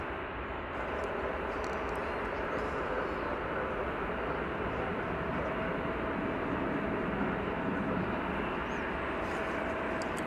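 American Airlines flight 2517 from Calgary arriving at DFW Airport: a continuous, moderately distant jet rumble with broadband roar, steady and even across the whole stretch, with no speech.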